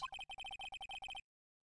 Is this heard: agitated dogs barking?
no